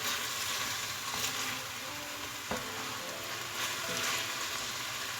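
Chicken pieces fry in a hot pan with a steady, close sizzle and crackle, their released water cooked off, with a faint scrape of stirring partway through and no talking.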